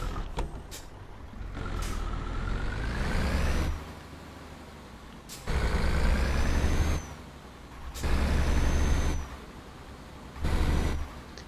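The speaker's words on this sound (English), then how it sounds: "We're in a European truck." A Mercedes truck driving in Euro Truck Simulator 2: a steady diesel engine drone that surges and drops in repeated stretches between gear shifts, with sharp clunks and hisses, no talking.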